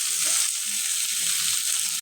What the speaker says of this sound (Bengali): এটা আমি ভালো করে এখন ভাজা নেব।